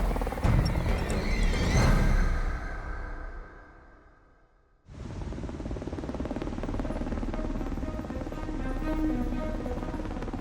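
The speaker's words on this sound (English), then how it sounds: "a US Air Force Pave Hawk helicopter is low on gas" A US Air Force Pave Hawk military helicopter's heavy rotor and engine roar fills the clip, dipping briefly into near-quiet before returning at full, steady loudness.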